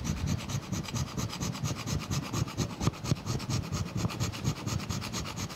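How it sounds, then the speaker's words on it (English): A hand scraper scraping the cast iron cross slide of a metal planer's clapper box, steady rhythmic rasping strokes repeated quickly one after another, close and fairly loud with no talking. "it's a good practice here for me to pick up the hand scraper and do this by hand."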